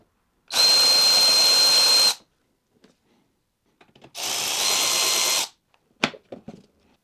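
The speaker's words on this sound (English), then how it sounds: "Then we have to remove two 8mm screws on this side and also on" A power tool backs out 8mm screws on the intake manifold of a BMW N43 engine in two loud, steady whirring runs, each lasting about one and a half seconds, followed by a few short clattering knocks, close up with no speech.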